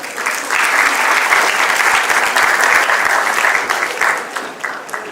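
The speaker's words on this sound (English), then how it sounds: "Let us welcome her with a huge round of applause," An audience at an army welfare education society awards and national debate event bursts into loud, sustained applause welcoming a speaker, dense clapping that holds steady before easing slightly at the end.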